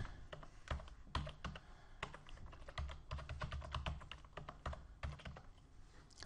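Rapid keystrokes on a computer keyboard as a password is entered, a close, steady run of light clicks lasting several seconds with no talking.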